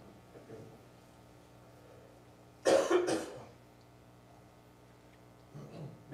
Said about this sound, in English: I got a cough here, just a second.